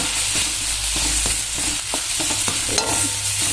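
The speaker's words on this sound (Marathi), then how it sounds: "चांगलं भाजून घ्यायचं" Homemade masala and turmeric roast in a pan over a wood-fired stove, a steady close sizzle with scraping stirs and small clinks throughout.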